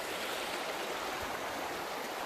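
A mountain creek rushes and gurgles steadily at a gold prospecting site on Black Mountain, a dense, even wash of water noise with no voices.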